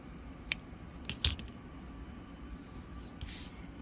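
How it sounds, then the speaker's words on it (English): Scissors snip off a yarn end after crocheting, making two quick, close, crisp metallic cuts against a quiet background. "and then snip off the end"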